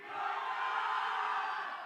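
A large crowd roars and chants together at the Jayeshbhai Jordaar trailer launch event, a dense, steady wall of voices sustained for about two seconds.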